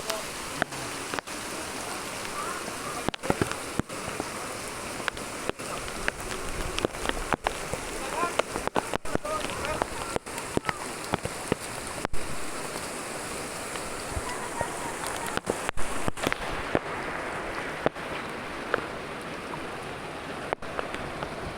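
Heavy rain pours steadily during Typhoon Carina in Malabon, a dense, loud wash of water with gusting wind and scattered thumps throughout.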